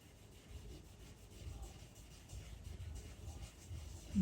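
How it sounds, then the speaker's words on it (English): Red pastel rubbed into paper for a pet portrait, a soft, steady scratchy friction that keeps going at low volume throughout, with no voices. "So yes, we'll rub the red in."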